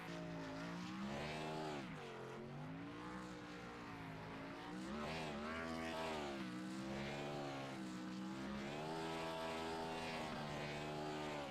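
A NASCAR Gen 4 Cup race car in iRacing doing a burnout on the front stretch at Texas, engine holding a loud sustained wailing roar that rises and falls in pitch continuously for over ten seconds.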